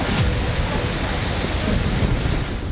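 Storm wind and heavy rain during monsoon weather in Pakistan produce a dense, continuous roar with gusting rumble, loud and unbroken, with no voices.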